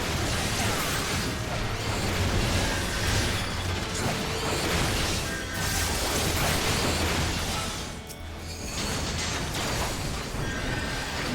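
Explosions fill a Final Fantasy XIV battle as a dense, loud, continuous roar of blasts and crackling effects that runs unbroken for the whole stretch.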